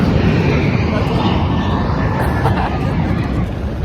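Steady loud roar of an airplane engine at an airport, continuous and broadband, with faint voices and crowd noise mixed in.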